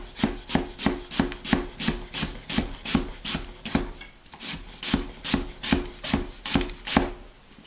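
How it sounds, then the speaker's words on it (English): A knife slices through an onion on a cutting board with steady, rhythmic thuds and rasps, about two strokes per second, close and clear with no voices. "I'll be slicing all the way through the onion"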